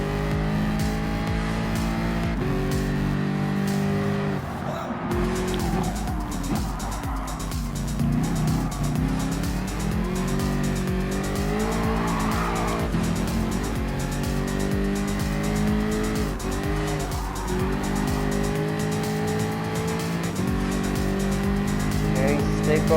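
Gr.3 race cars in Gran Turismo Sport on the Mount Panorama circuit during an endurance series, loud, continuous engines revving up and down through gear changes, with tire squeal and cars passing close by.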